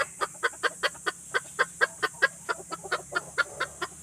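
A small gamefowl chicken clucks in a quick, steady series of sharp, close clucks, about five per second, over a faint background hum.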